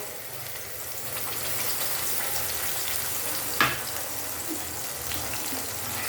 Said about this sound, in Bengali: এবার আমি এর মধ্যে এই মশলাটা ঢেলে দেবো